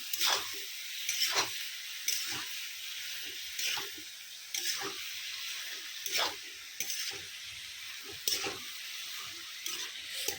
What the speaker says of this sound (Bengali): পেঁয়াজটা একটু বেশি দিলাম একটু নাড়াচাড়া করে নিই